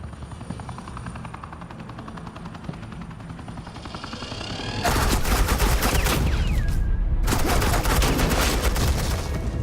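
Suppressing gunfire from Agent Quinn's forces in Batman: The Enemy Within, a loud, dense barrage of rapid shots and helicopter-like roar that kicks in halfway through, briefly cuts out, then resumes.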